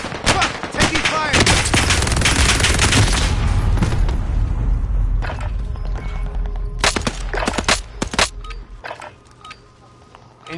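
Dense, sustained gunfire from a Call of Duty match: rapid automatic bursts and heavy shots pile up loudly, then thin into scattered separate reports near the end, with voices shouting over the battle.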